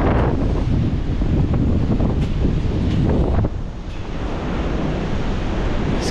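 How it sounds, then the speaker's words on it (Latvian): Strong wind buffets the microphone on a small bridge during a trip in Spain, a loud continuous roar with heavy low rumble, easing briefly midway before gusting again. "pūš vējš"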